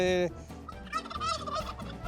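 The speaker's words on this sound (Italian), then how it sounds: "questo è il tacchino di Parma e Piacenza" A Parma and Piacenza turkey gobbles loudly up close, a rapid warbling burst followed by further rattling gobble calls.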